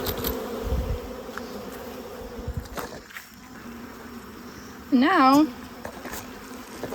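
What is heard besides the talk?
honey bees buzzing around an open hive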